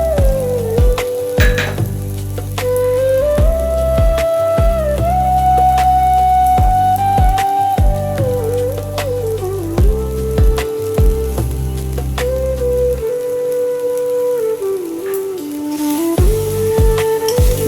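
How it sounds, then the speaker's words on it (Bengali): Flattened rice and vegetables frying in a pan, a steady close sizzle that runs the whole time alongside continuous background music, with no talking. "দিয়ে 5 থেকে 6 মিনিট ভালো করে ভেজে নেবো।"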